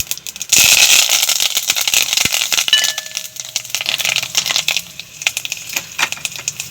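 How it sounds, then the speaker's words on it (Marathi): Mustard and cumin seeds crackle and pop in hot oil, a quick scatter of sharp snaps that keeps going throughout, with some louder pops standing out. "आता आपले राई, जिरे तडतडले।"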